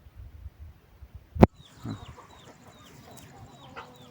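Farm chickens cluck softly and intermittently in a yard with cattle, the faint calls broken by one sharp knock near the start.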